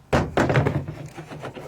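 Plastic gas cans set down into the bed of a Rivian R1T pickup, giving two loud hollow thunks close together followed by softer bumps and scraping as they settle.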